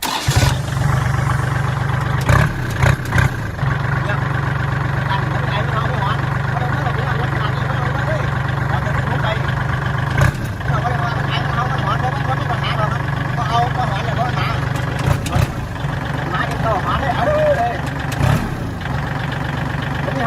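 A 2014 L3608 tractor engine running in a steady, loud, low diesel drone with a few brief bumps in level, while voices talk over it.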